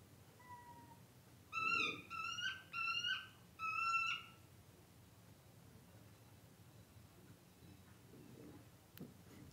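Black-tailed godwit calls: a short series of four rhythmic, nasal call bursts close by, with a fainter single call from another godwit off in the distance, over a steady low outdoor hiss.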